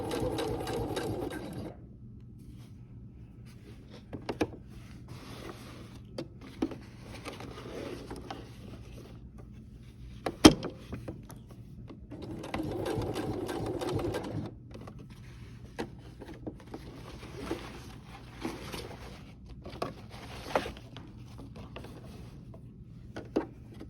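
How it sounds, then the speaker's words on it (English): A sewing machine stitches a doubled line on a crossbody bag in short bursts of rapid mechanical whirring, separated by pauses filled with clicks and fabric handling, close and moderately loud. "you will try to keep all your stitching right on top of each other so it only looks like one line of stitching"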